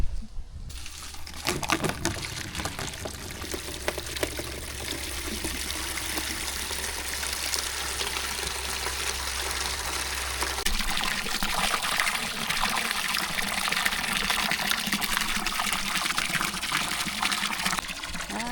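Water pours steadily into an animal water container, a constant gushing, trickling stream heard up close that deepens slightly as the container fills, with no talking.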